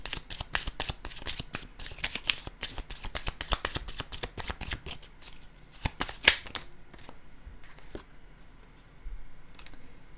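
Playing cards are shuffled and drawn at close range: a quick burst of crisp riffling snaps, then softer sliding and flicking of cards, with no voices.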